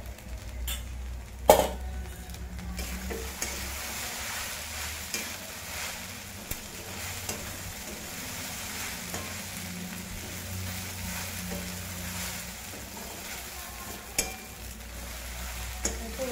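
Sabudana khichdi with 4–5 spoons of crushed peanut powder stirred in a pan: steady low sizzle with soft scraping strokes, a sharp clank near the start, continuous and alone without talk.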